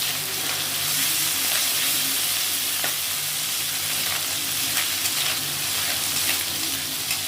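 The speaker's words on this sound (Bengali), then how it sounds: "মাছটা আমি আর কিন্তু হালকা ভেজে নেবো" Small mourola fish lightly frying in oil in a pan, a steady close sizzle with faint crackles and occasional stirring clicks throughout, no voices.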